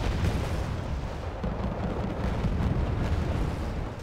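Artillery shells exploding in a video game tournament match: a dense, rumbling barrage of overlapping blasts and booms, continuous and loud for several seconds.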